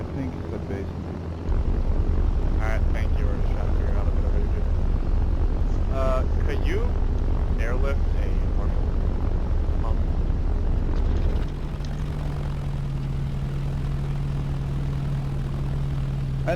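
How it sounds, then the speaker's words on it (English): Enemy VTOL aircraft flying in Arma 3: a steady loud rotor-and-engine drone runs throughout, shifting to a lower hum partway, with radio voices talking over it. "enemy VTOL spotted"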